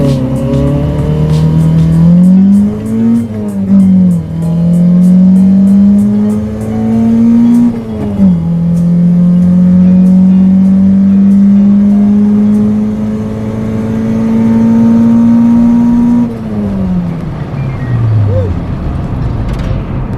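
A stock 4AGE car launches and accelerates hard, its loud engine note climbing through several gear changes with brief dips between shifts before easing off near the end.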